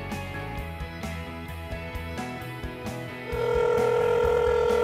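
A mobile phone rings on a construction site in a safety scenario, a steady loud tone entering partway through over background music and continuing to the end.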